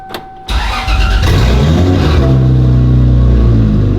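A Lexus with a 1JZ engine cranks briefly and fires up, then settles into a loud, rumbling idle close by.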